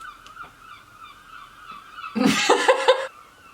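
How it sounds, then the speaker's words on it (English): Several gull calls burst out loudly over a few seconds at an inland spot, harsh honking cries following a quieter stretch of background sound. "I thought seagulls only go by the coast. There's seagulls that are seagulls that love the sea, but then there's gulls that are inland."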